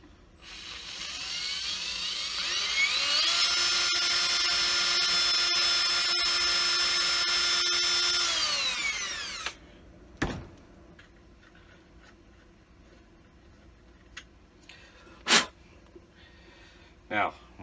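A power drill whines steadily for several seconds while dimpling a rifle barrel for a gas block, its pitch rising then falling away as it stops, followed by scattered clicks and metallic taps in a quiet room.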